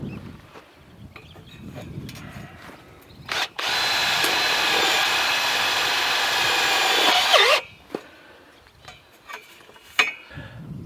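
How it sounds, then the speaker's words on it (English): Power drill driving tech screws into a hoop of a trampoline frame for a high tunnel, one steady whirring run of about four seconds with short clicks and handling knocks before and after. "We'll tech screw them together just to hold them in place, give them a bit of strength"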